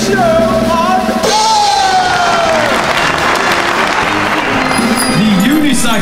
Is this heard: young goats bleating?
no